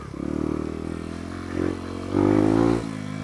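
A Lexmoto Adrenaline 125cc motorcycle rides over rough ground: a steady, buzzing small-engine drone that swells briefly twice as the throttle opens, with light clatter underneath and no talking.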